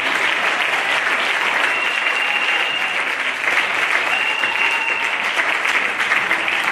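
A church congregation at a Sunday exhortation and prayer service applauds steadily, a dense, continuous wash of many hands clapping that holds at an even loudness throughout, with no pause or fade.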